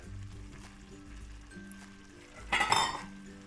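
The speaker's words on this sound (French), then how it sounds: "On va donc ouvrir la casserole et y ajouter le feta." A quiet kitchen background, then a metallic saucepan lid clinks and rattles against the pot near the end as feta is added, followed by soft handling sounds.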